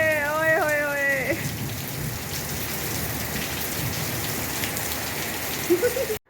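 Monsoon rain pours down in a steady, dense patter, with a voice calling out briefly at the start before the rain continues alone.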